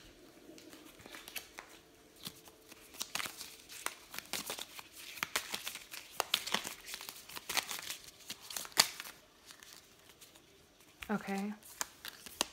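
Tarot cards are shuffled and drawn in a quiet room, making scattered soft riffling, slapping and crinkling sounds, with a brief spoken word near the end.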